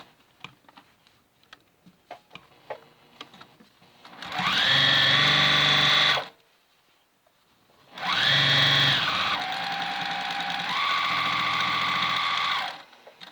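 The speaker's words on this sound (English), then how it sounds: "we'll sew pretty close to the edge" Sewing machine stitching close to the edge of an infant burp cloth with its regular presser foot, running in two loud steady bursts of about two and four seconds, the second shifting pitch midway, with faint handling clicks before.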